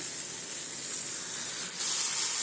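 A paneer tomato curry sizzles with a steady hiss that suddenly surges louder and brighter as water hits the hot pan.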